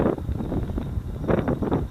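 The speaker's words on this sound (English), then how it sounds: "don't know if you can hear me, it's getting a bit windy." Wind buffets the microphone in rough, uneven low gusts, loud and close throughout, outdoors on open moorland.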